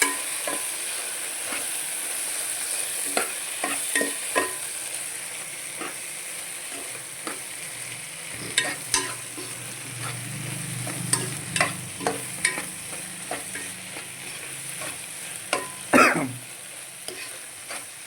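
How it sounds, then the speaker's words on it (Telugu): Green egg curry with green chilli paste stirred in a pan, a steady low sizzle beneath repeated scraping spoon strokes that tap the pan in an uneven rhythm, close and moderately loud. "మంచిగా కర్రీ అనేది ఇలా ఇలా కలుపుకోవాలి"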